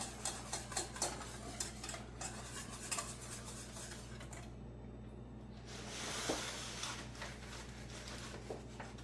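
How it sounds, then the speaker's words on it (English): Pie filling being stirred in a bowl while baking holiday pies: a quiet, steady run of light spoon clicks and scrapes against the bowl, with a short lull partway through. "Give this a little stir."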